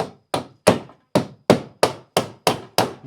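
Hammer blows driving nails into wood while taking apart a house, about nine sharp, close strikes in an even rhythm with short gaps between them and no talking.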